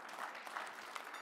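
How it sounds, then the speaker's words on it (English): Faint, distant audience applause at an engineering awards dinner, a soft continuous patter of many hands that lasts only a moment, with no clear voices over it. "give them a round of applause"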